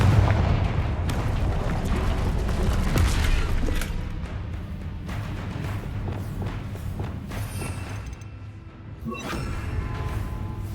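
Confringo blasting spell explosions in the Hogwarts Legacy video game make a dense, continuous rumble of booms and crackling impacts, loud and sustained throughout, with no voices.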